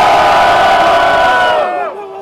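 A loud crowd roars for a rapper at a Botafogo rap battle semifinal, a dense, steady burst of cheering and whooping that drops away near the end.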